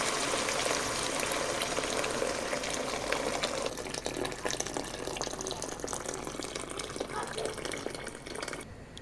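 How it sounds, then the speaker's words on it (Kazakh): Boiling hot water is poured into a pot of fried ingredients for noodle soup, a steady gushing splash that eases partway through and continues more softly to the end. "қайнаған ыстық су құямыз"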